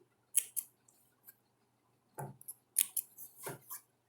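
Scissors snipping into fabric along a sewn seam of a double-sided diaper changing pad, a few quick close cuts separated by pauses, with no voices.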